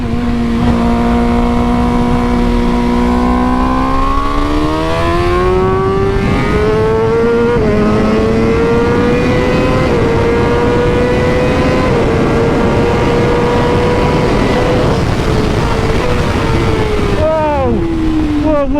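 A factory BMW M 1000 RR superbike screams at speed, its engine note climbing steadily through the gears with a brief shift dip, loud and close over heavy wind rush, with a rider's voice partly underneath.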